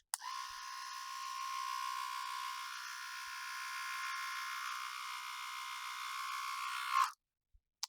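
A Split Ender hair trimmer runs on a section of hair with a faint, steady electric buzz and whir lasting about seven seconds before switching off. Apart from a small click or two, nothing else is heard.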